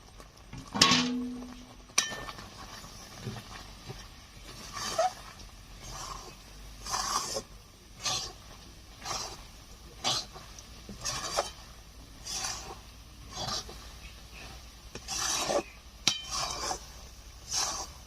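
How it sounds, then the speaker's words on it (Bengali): Chickpea-dal mihidana being mixed into sugar syrup in a pan, a utensil repeatedly clinking and scraping against the metal in a steady rhythm of about one stroke per second, close and fairly loud with no talking. "এখন সবকিছু দিয়ে মিশিয়ে নেব।"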